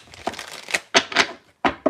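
Tarot cards being shuffled by hand, a handful of quick crisp riffling bursts with brief pauses, close and fairly loud.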